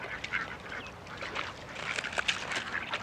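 Ducks quack repeatedly at close range in a loose, irregular chatter of calls over a faint outdoor background, with no talking.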